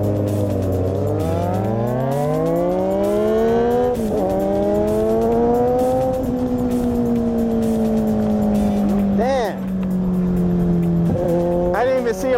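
A motorbike revs hard and pulls away from a light at night, engine pitch climbing through gears over steady road and wind roar, with another rider's engine rising nearby and short bursts of talk.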